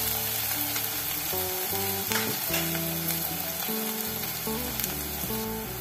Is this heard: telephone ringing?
no